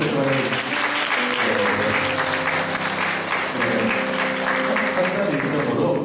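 A church congregation at a Sunday service claps to welcome visiting family members. The applause is loud and sustained, with a low organ or keyboard tone held underneath and some voices mixed in.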